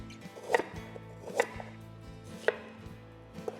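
A knife slices vegetables on the diagonal against a cutting board, four distinct crisp chops spaced about a second apart, close and fairly quiet with no talk.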